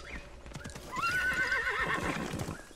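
A video game horse gallops with rhythmic hoof clip-clops and lets out a loud, clear whinny near the middle, heard close and alone without talk.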